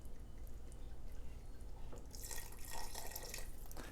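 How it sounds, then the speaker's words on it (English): Vinegar pours into picadillo as a close, thin trickling splash that starts about halfway through and runs with small dripping spatters after a quiet lead-in. "add another ingredient, just a very small amount, just I don't know, a couple of tablespoons of vinegar"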